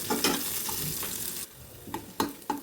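Okra frying in an oiled pan for a Rayalaseema bendakai pullagura dish, with a steady sizzle broken by several sharp scrapes and clinks of a spatula stirring, close and fairly loud.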